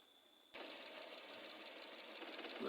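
Suzuki K6A engine idling with a misfiring cylinder: a faint hum that jumps to a steady, louder mechanical running noise after half a second, continuing alone without talk.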